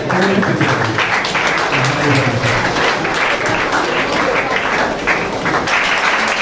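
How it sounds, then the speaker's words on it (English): A congregation at a valedictory service claps loudly and continuously, a thick, close wash of applause holding steady throughout with faint voices mixed beneath it. "Clap your hands together. Keep putting your hands together to take their seats."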